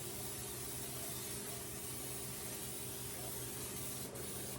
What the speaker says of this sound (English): spray my skillet